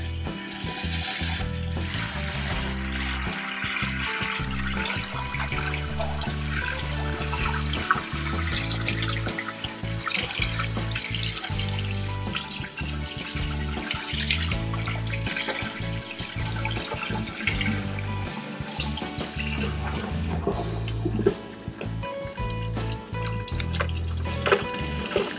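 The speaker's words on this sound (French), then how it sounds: "J'ai l'intention de remplir la toilette avec peut-être un petit peu d'eau de douche puis faire quelques flushs." Shower water pouring into an RV toilet to clear a clogged black water tank, a continuous loud splashing and gurgling rush of liquid that runs steadily throughout with no talk.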